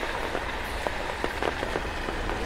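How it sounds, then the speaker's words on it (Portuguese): Heavy rain pours steadily onto a city street during a sudden storm, a dense continuous hiss with scattered louder drop impacts, close and loud throughout. "De repente, a chuva veio."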